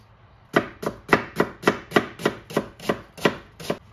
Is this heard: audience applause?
no